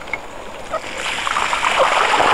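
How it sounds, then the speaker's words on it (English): River water on the Carnon River in Poldice Valley, Cornwall, rushes and splashes near a waterfall, a close churning wash that grows louder and fuller toward the end. "Not going down that waterfall."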